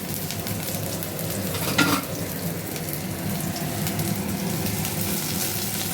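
Garlic fries in a pan with a dense, steady sizzle and crackle, close and continuous, with a brief louder scrape or stir near the start.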